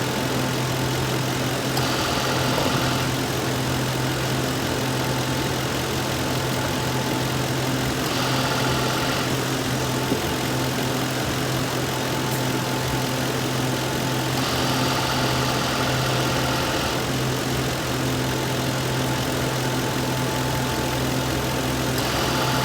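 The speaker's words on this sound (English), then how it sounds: "I hear the compressor. It just went on full time." Lincoln Town Car engine idling with the air conditioning compressor engaged while refrigerant is added: a loud steady hum and whine carrying throughout, with periodic brief surges in the hiss, no talking.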